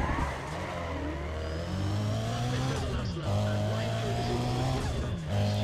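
A race car in the game Need for Speed: ProStreet grip racing at Mondello Park, with a loud, continuous engine rising and falling in pitch through gear changes, tires squealing now and then.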